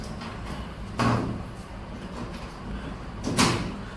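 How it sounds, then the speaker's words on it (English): The back door of an HL 1060G 100W CO2 laser cutter is taken off, giving two short, broad panel knocks about two seconds apart over a steady background hum, with no voices. "I will remove the back door"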